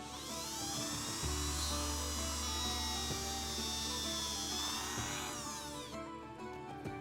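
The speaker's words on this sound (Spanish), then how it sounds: "con un taladro, le realizamos un poco mayor el agujero" A high-pitched power drill whines steadily with a low motor hum, shifting pitch slightly as it enlarges a hole in a handmade squid lure, then winds down.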